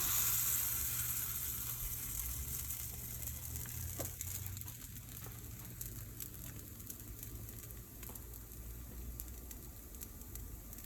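A pupusa fries in a pan with a soft, steady sizzle and faint crackle, quiet and continuous under a low background hum, with no speech.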